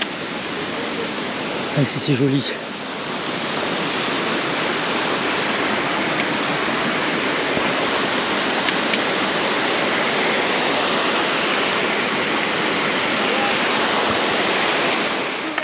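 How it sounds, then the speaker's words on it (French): A waterfall on a shaded forest hiking trail near Lac du Lauvitel in the Alps roars as loud, steady broadband rushing water that fills the whole clip. A voice speaks briefly near the start. "Notre première cascade."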